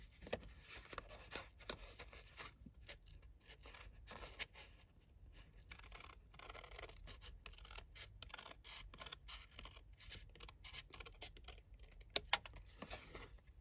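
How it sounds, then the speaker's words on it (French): Scissors cut through paper while crafting a decorative tea-themed Advent calendar, giving soft, close snipping and scratchy rustles that repeat steadily with no talking. "Donc avec mes ciseaux."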